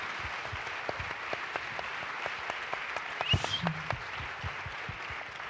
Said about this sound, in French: merci Aziz Seni, on peut l'applaudir.